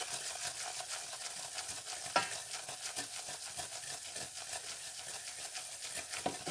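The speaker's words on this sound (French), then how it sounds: "Et je vais faire un roux, comme ceci. Donc ça consiste à cuire la farine et le beurre." Roux of flour and butter cooking in a pan, a soft continuous sizzle with stirring scrapes and an occasional sharper tap of the utensil, quiet and close with no talk.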